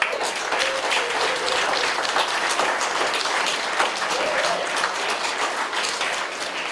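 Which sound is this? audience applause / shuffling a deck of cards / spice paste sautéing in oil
audience applause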